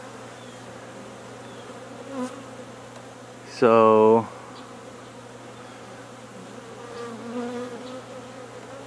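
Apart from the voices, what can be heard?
bees buzzing around a tree during removal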